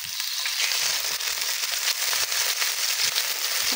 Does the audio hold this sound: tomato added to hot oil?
yes